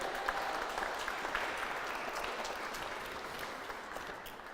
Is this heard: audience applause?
yes